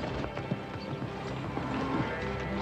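Several horses clip-clop across ground as a herd is driven over a crossing in a 1950s Western cattle drive, the hoofbeats steady and fairly close, with a neigh or whinny rising briefly over the trampling.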